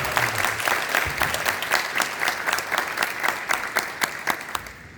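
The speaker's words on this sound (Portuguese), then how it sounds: "Eu gostaria de pedir uma salva de palmas aí para esse momento." Moderate audience applause closing a round-table academic panel, a room of people clapping steadily with individual claps standing out, fading slightly near the end.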